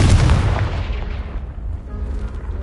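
A fiery Confringo spell blast in Hogwarts Legacy, one loud booming explosion up close that opens with a heavy burst and then rumbles and fades over a couple of seconds.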